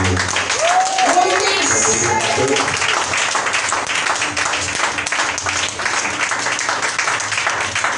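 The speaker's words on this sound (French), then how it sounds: "Alors je veux que tu donnes une acclamation pour" A church congregation applauding during a sermon, loud continuous clapping and crowd noise filling the whole stretch, with a brief voice or cheer near the start.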